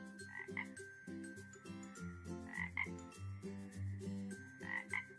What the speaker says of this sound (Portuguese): O sapo!